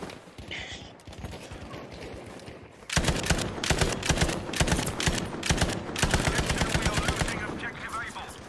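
Machine gun fire in Battlefield 5, with sustained rapid bursts that grow louder and denser partway through, dense gunfire over game background noise.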